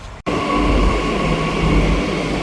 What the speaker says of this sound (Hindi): तो मेट्रो आ चुकी है,